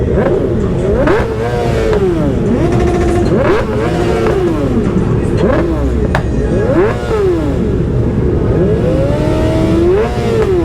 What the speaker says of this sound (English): No point me talking. Just listen to these bikes.